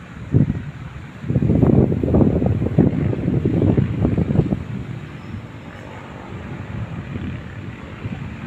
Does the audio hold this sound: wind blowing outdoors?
yes